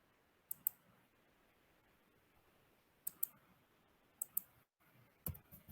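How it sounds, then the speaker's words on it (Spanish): Keys pressed on a computer keyboard give sparse, sharp clicks in small pairs and clusters, spaced a second or more apart, over a quiet room. "Le estoy dando el teclado aquí y no escribe."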